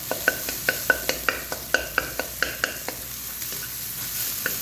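Chicken being stir-fried in a pan for fried rice, a spatula tapping and scraping in a quick regular rhythm over a constant close sizzle, tapping fading out partway through.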